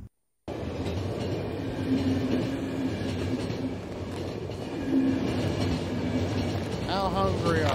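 A train runs in the video game The Final Station after a brief silence, with a steady loud rumble and rhythmic clickety-clack, and a rising wheel squeal near the end.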